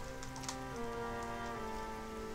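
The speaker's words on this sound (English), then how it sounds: "I love the sound of rain in games." Steady game rain pattering on stone surfaces in World of Warcraft, a dense even hiss with scattered sharper drops and faint tonal ambience underneath, no talking.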